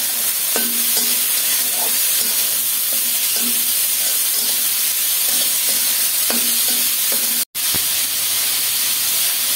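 Potatoes sizzle steadily in a hot pan with green chili, salt and turmeric, and a spatula scrapes and stirs in a repeated rhythm over the constant frying hiss.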